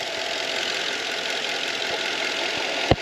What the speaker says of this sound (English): Idling right along.